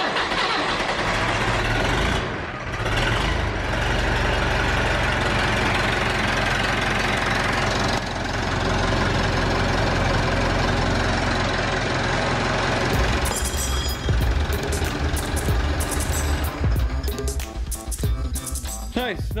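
An old diesel engine with a CAV fuel system cranks and fires, then settles into a loud, steady knocking run close by, with the rhythm roughening and clattering toward the end.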